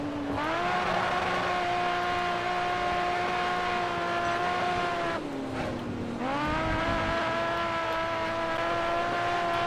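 A race car in GRID: Autosport holds a loud, steady engine drone, dipping in pitch as it shifts or brakes, then climbing again while tires squeal briefly under the continuous roar.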